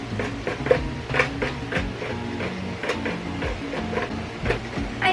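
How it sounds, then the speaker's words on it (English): A home printer runs through a print job, giving repeated mechanical clatter and short rhythmic bursts of the moving carriage at close range, with no one speaking over it. "That is our printer, and I have not used that in over probably 2 years."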